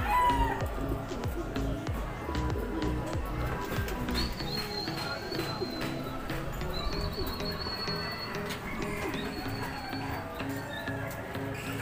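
Racing pigeons at a training release in San Narciso, Quezon, cooing and fluttering amid a busy backdrop of chirping birds, with people talking over them throughout.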